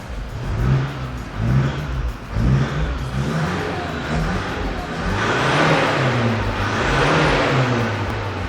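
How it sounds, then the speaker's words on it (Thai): A car engine revved hard to roughly 4,000–5,000 rpm while being detoxed for black smoke: several short throttle blips, then a long sustained rising rev, loud and close with no talk over it. "ผมเบิ้ลให้ เบิ้ลเต็มที่"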